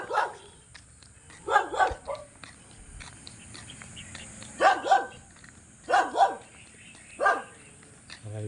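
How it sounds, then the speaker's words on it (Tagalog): Several dogs bark in short bursts of two or three yaps, repeating at intervals from moderately close in a quiet village setting, with faint background murmur between. "Ito, may mga aso."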